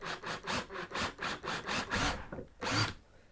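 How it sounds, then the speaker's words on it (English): A drill bit makes pilot holes for screws in the backboard of an N gauge model railway build, in about eight rhythmic grinding bursts, close by and with no talk. "I'm going to get my drill bit and make some pilot holes for the screws to go in"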